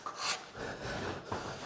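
Steel card scraper drawn across the wood of a small table being shaped and finished, two or three short rasping strokes, close and fairly quiet.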